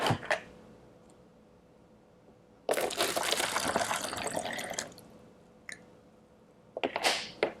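Half a cup of hydrogen peroxide is poured through a funnel into a recycled plastic bottle, heard as short liquid splashes, then a steady multi-second gurgling pour and a final brief trickle, close and clear with no talking.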